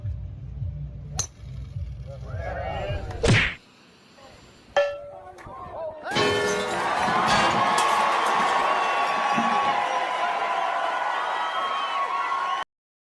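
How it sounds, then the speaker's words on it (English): A street crowd cheering, heard as a steady, broad roar of voices and shouts that builds after a few isolated clinks and bangs and holds for several seconds before cutting off abruptly. "the whole crowd just completely cheering him on"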